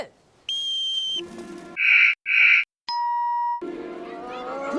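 A series of electronic tones and whistle-like blasts, including two loud short bursts, a sustained pure tone, and some buzzing sounds in between.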